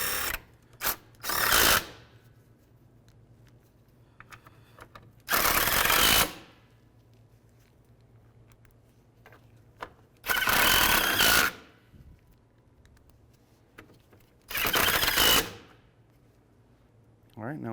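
Bolts being driven into a radiator on a 2015-2019 Hyundai Sonata, heard as four separate loud bursts of a power tool spaced a few seconds apart over a quiet shop background.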